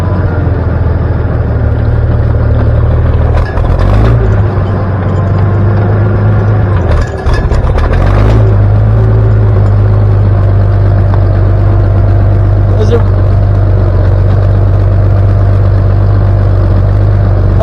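A Ford 7.3 IDI diesel truck engine runs loudly and steadily up close after the clutch is let out, a constant low drone with a couple of brief clunks and dips early on.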